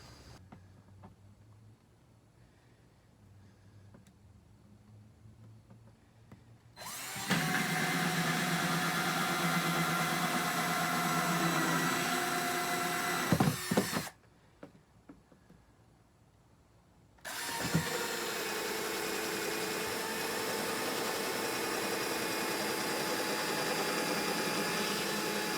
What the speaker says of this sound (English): I'm going to drill 2 rows of 2-inch holes that have 3 holes per row.